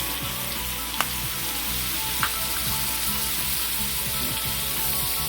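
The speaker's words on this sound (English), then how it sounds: "I'm gonna go ahead and put my vinegar in." Loud, steady sizzling of fried cabbage in a hot pan as vinegar goes in, with a continuous crackling hiss throughout and a couple of faint clicks.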